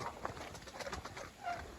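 Soft, low cooing from pigeons, a few brief murmuring calls close by against quiet background.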